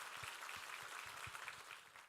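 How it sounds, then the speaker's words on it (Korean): A church congregation applauding, faint and distant steady clapping that fills the room evenly with little variation throughout. "우리 하나님께 감사와 영광의 박수를 올려드리겠습니다."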